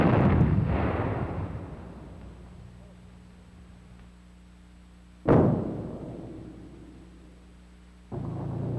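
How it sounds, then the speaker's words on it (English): A 155mm howitzer fires a laser-guided test projectile with no warhead: a loud boom that decays slowly, then a second sharp blast a few seconds later and another onset near the end, heard at a distance outdoors. "a 155mm howitzer is being loaded with a laser-guided projectile"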